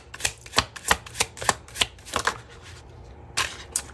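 Tarot cards are shuffled close up in a steady run of about a dozen crisp riffling slaps, briefly pausing before a final burst.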